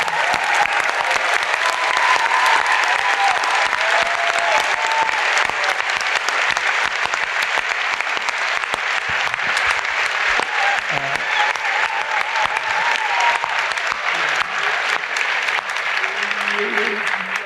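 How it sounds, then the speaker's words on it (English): Sustained, loud audience applause at a film festival Q&A for the crew of the film The Lighthouse at TIFF 2019, a dense, steady wash of clapping that carries evenly throughout with faint voices beneath it. "Give them a round of applause."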